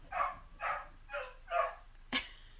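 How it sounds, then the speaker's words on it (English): A single dog barks four times in a steady, evenly spaced rhythm at moderate distance, then lets out one sharp, shorter yelp, with a quiet room in the background. "Excuse the dog."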